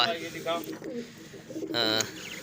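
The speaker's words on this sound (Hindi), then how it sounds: "ये सब डबल आँख वाले कबूतर हैं" Soft pigeon coos close by, a few throaty warbling calls, with a person talking over them.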